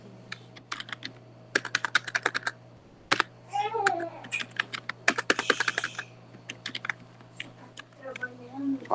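Computer keyboard keys clatter in quick bursts while C code is written, close and crisp, alternating with someone speaking between typing runs over a faint steady hum.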